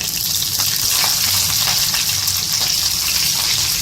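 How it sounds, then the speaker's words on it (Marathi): Mustard seeds, dried red and green chillies, cumin and curry leaves temper in hot oil, giving a loud, dense, continuous sizzle with fine crackling pops throughout, close and alone with no voices. "तेल चांगलं तापले आपण एक अर्धा चमचा मोहरी टाकून घेत, तडका मिरची, हिरवी मिरची, जिरे टाकायचे"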